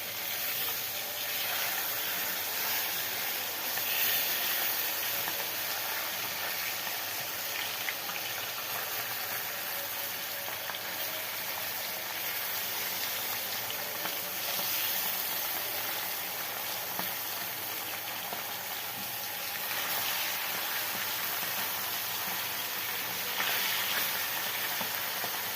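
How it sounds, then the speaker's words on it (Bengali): Tilapia fish pieces fry in hot oil with a steady, dense sizzle that continues unbroken and fairly loud, with occasional louder crackling swells and no talking. "এবার মাছগুলো উল্টিয়ে দুপাশ ভালো করে ভেজে নিব।"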